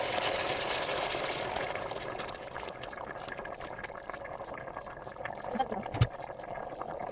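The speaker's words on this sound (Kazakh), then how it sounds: "Енді үстіне қайнаған су құямыз." Boiling water is poured over meatballs in a pan, a soft splashing, gurgling pour that is strongest at first and then fades into low bubbling, ending with a single clunk near the end.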